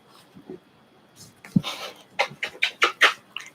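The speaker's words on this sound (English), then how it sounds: "You guys have to see puppies, apparently. This is their puppies." Puppies pant close by in a series of quick, breathy huffs that speed up and grow louder toward the end, with a few soft snuffles at the start.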